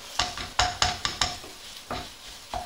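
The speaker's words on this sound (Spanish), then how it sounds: "Ahora vamos a echar nuestra morcilla y nuestra longaniza" Morcilla and longaniza with onion get stirred in a pan, giving a series of about eight sharp, close utensil scrapes and knocks at an uneven rhythm over faint sizzling.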